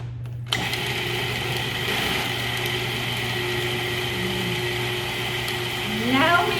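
A food processor whirring as it blends spinach pesto ingredients, a steady mechanical motor whine with a low hum underneath, a brief silence at the start, and faint rising tones near the end.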